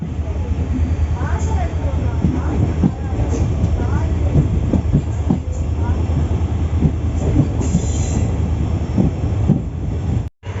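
The Secunderabad Special Fare Express, train 07696, runs between Sivaganga and Thiruvarur with a loud, continuous rumble and rhythmic clatter on the rails, voices talking over it, cutting off abruptly near the end.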